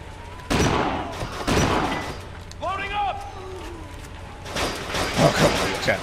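Shotgun blasts in Kane & Lynch 2: Dog Days, two heavy booming reports about a second apart. A pause with a brief tonal whine follows, then more rough, clattering combat noise. Speech from the player is mixed in.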